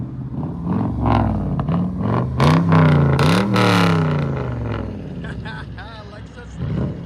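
A straight-piped Lexus LS 430 with a 4.3L V8 and true dual exhaust revs hard, the pitch sweeping up and down through several loud, raspy pulls before settling to idle and blipping again.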